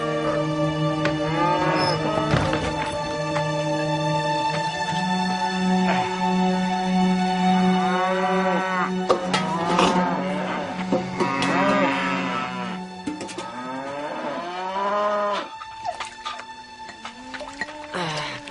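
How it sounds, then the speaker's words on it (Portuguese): A herd of cattle mooing repeatedly on a farm, the long, loud lowing calls overlapping one another and close by throughout, with no talking. "O que é que esse homem está fazendo com essas vacas agora?"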